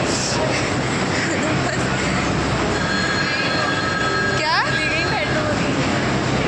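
A Delhi metro train rumbles steadily close by at a station, wheels squealing in rising high-pitched streaks partway through, with voices talking over the noise.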